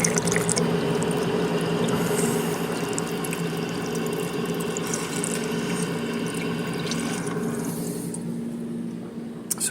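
Water streams steadily from a drinking fountain, a loud continuous splashing rush with no break from start to finish.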